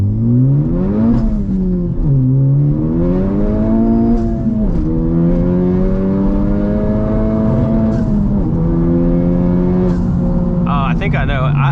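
A 2020 Honda Civic Type R engine revs repeatedly up against its rev limiter, the loud strained drone climbing and holding with stuttering cuts and bangs, heard close and steady for the whole stretch.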